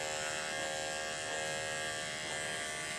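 Andis 5-speed electric dog grooming clippers run in a steady, even buzz that stays close and constant for a few seconds with no talking.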